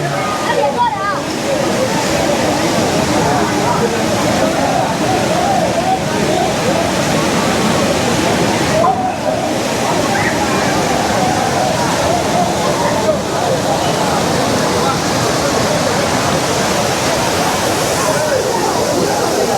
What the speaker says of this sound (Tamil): அருவி பக்கத்தில் இருந்து தான் எடுக்கிறோம் வீடியோவை